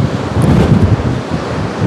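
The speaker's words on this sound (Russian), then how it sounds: "Сегодня море показывает свою мощь" Rough Black Sea surf at Anapa rolls steadily against the shore, a loud, continuous rumbling wash blended with gusting wind buffeting the microphone, with no voices.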